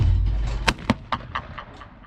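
A shotgun fires at skeet singles on an outdoor range, a single sharp report dominating amid a few quick, distant echoing pops that fade over two seconds.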